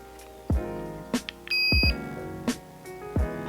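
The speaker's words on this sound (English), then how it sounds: "I guess that's the beep" Brief electronic tone from a sound simulator being installed in a Traxxas TRX-4 RC car, a short steady beep among several sharper clicks and tonal blips, fairly quiet and with no talking.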